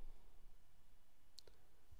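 A single soft mouse click on a computer lands partway through an otherwise quiet stretch, faint and close, with no other activity around it.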